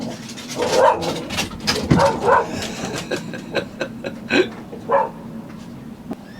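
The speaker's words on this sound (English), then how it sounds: "Crazy dog." A dog on a nearby sailboat barks repeatedly in uneven bursts, mixing deep woofs with higher yips and whimpers, fairly close and loud against open-air background noise.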